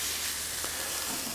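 Thinly sliced gyros meat strips sizzle steadily in a hot pan, a soft, even frying hiss with light stirring and no voices.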